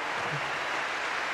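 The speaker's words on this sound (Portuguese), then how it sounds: "Queria mais uma salva de palmas para o Agassi, que foi uma grande final." Crowd applause for Agassi after the 2000 Masters Cup tennis final, a steady wash of distant clapping from a large arena audience, even and unbroken throughout.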